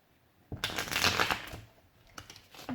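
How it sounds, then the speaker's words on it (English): Tarot cards riffle together in a quick, crisp burst, followed by a few softer flicks and taps as the deck settles. "That was a very bad shuffle."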